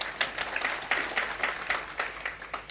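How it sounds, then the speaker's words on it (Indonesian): A church congregation breaks into brief applause, the clapping falling into a loose, rhythmic beat of roughly regular strikes over a short stretch. "Kita beri tepuk tangan saudaraku."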